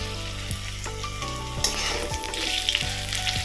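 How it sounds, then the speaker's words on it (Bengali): Bora fritters frying in hot oil, a steady dense sizzle running throughout with occasional stirring scrapes and bubbling bursts, close and fairly loud. "তো চলো ভাজাটা বসিয়ে দিই"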